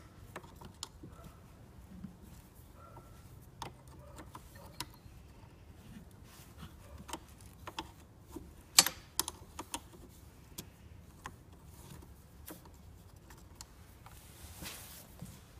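A 10 mm wrench works the negative battery terminal on a 2011 Range Rover Evoque 2.2, making sparse, faint metallic clicks and ticks at irregular intervals, with one brief louder cluster partway through.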